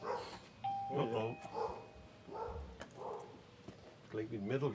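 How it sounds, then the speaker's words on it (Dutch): Dogs bark in short bursts behind a door after a doorbell chime, mixed in with people talking nearby. "Klinkt niet middelgrote honden."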